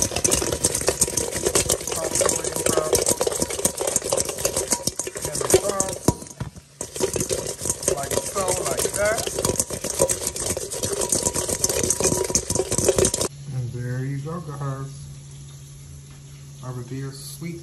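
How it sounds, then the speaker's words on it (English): Chicken wings being tossed in Badia sweet and spicy sauce, a steady close rattling and clattering that stops abruptly near the end, followed by quieter sizzling-like hiss. "I'm just gonna add a few dips of the sauce on the wings and then"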